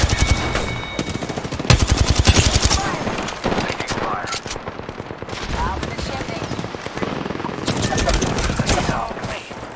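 Sustained Apex Legends gunfire, rapid automatic bursts and clustered shots spread over several seconds, loud and close, with game callout voices in the mix.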